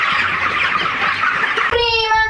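Chickens cluck in a busy rural yard, a steady mass of bird noise; near the end a sharper, more tonal call rises above the flock.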